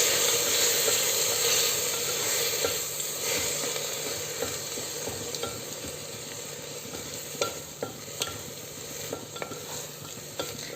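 Prawn biryani masala sizzles and fries in a pan while being stirred, a continuous close hiss broken by light scraping and clinks from the stirring utensil, with no speech.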